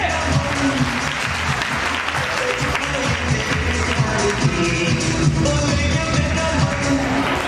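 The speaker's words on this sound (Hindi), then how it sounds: "जोरदार तालियां।" Loud applause from a crowd at a Haridwar network marketing training seminar, dense continuous clapping filling the whole stretch with a few voices mixed in.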